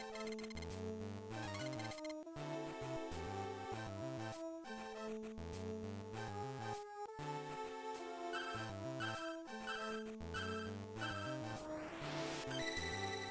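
A phone rings in the video game Breath of Fire, a repeating electronic ringtone melody playing steadily on its own for several seconds.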